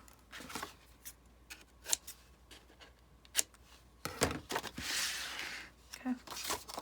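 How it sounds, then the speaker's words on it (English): Scissors snip decorative cuts into magazine paper in a series of sharp, close snips and crisp paper rustles, some spaced apart and some bunched together, with someone talking softly between them. "So I'm just going to do another decorative cut."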